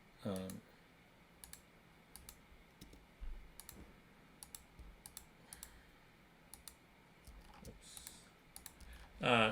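Scattered keyboard clicks and taps, sparse and irregular, fairly quiet against a low background hum, with short louder bursts at the start and end.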